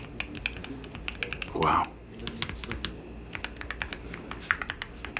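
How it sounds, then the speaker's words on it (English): Clicky key presses on a Keychron Q6 HE keyboard patter in an uneven, close-up stream of sharp taps, broken by a brief exclamation from a person partway through. "I typed on it. You heard the keys"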